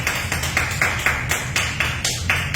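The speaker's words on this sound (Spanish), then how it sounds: "dale un aplauso al Señor" A church congregation claps together in a steady rhythm during a worship service, with loud, evenly spaced beats repeating about four times a second.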